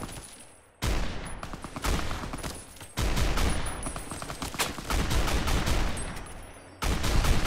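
Bursts of rapid gunfire in Fallout: New Vegas fill the scene as loud, dense volleys broken by brief gaps.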